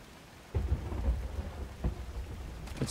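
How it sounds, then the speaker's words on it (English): Steady rain hisses throughout a video game storm, broken by low rumbles of thunder that swell and roll after a quiet start, with another rumble near the end. "It's raining too, that's good."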